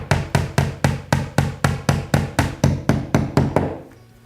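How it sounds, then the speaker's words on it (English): Hammer gently tapping a nail into a wall while hanging fine art framing: about thirteen evenly spaced, crisp close knocks in steady rhythm, then the sound fades into quiet. "You don't want to whack the nail because you could damage the wall."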